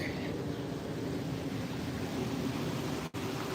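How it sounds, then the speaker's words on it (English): Water from a small babbling brook in a city park rushes and gurgles in a steady, continuous wash, fairly close and evenly loud throughout, with a brief dropout near the end. "bye to the babbling brook"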